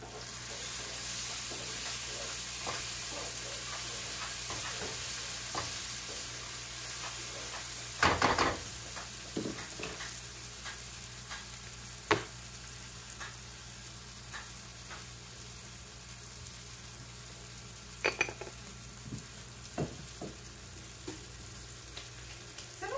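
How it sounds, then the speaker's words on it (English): Food frying in a pan, with salt just added, sizzles steadily throughout while a few louder clinks and scrapes from stirring stand out against it. "Let me give this a stir."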